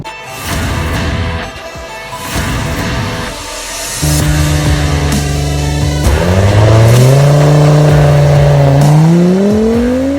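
Audi S5 B9 with Torsen Quattro all-wheel drive pulling hard from a standstill, engine note climbing steadily through the gears with clear shift breaks, loud and close, no talking.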